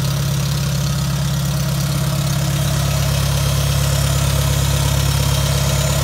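A cold engine idles steadily with a strong low hum and constant vibration, close and loud from start to finish with no talk.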